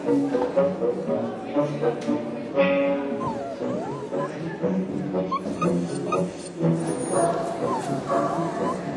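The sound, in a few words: barking Saint Bernard dogs at the kennel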